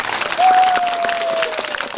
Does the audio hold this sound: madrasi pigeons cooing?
no